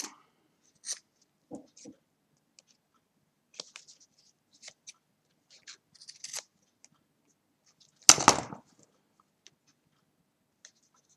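Scattered quiet snips and paper handling as excess paper is trimmed from a small handmade booklet, ending with one louder, longer cut or rustle near the end, close and isolated.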